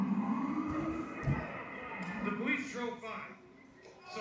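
Police siren wailing at a distance during street looting of a Foot Locker store, a faint wavering tone rising slowly in the background amid crowd noise and scattered voices.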